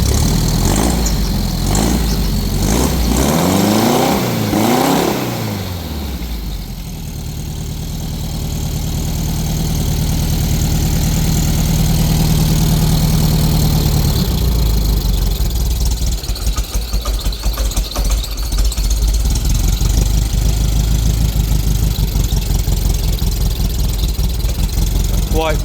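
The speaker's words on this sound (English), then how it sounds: "Sounds pretty good for a little stock engine" A small stock 1964 VW engine in a pan buggy idles loudly and steadily up close, its low rumble shifting pitch partway through, continuous the whole time.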